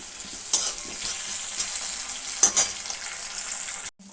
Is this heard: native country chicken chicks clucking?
no